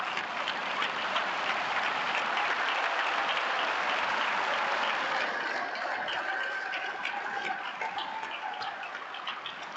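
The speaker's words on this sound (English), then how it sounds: "You need a round of applause as well." A commencement ceremony crowd gives a round of applause to the graduates' supporters, steady and full throughout, slightly fading near the end.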